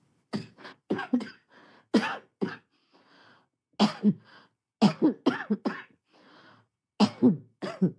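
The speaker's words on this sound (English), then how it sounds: "Don't worry about my cough." A series of harsh, repeated coughs in short bursts, close up, with brief pauses and faint breathy sounds between them.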